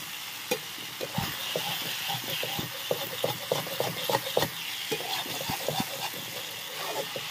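Vegetables fry in hot oil with a steady sizzle, punctuated by irregular scraping and stirring knocks of a utensil in the pan, moderately close and without speech.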